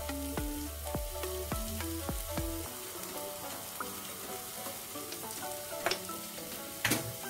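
Spinach samosa filling fries with a low, steady sizzle while being stirred in a pan, with a few faint clicks and two sharper knocks of the spoon near the end.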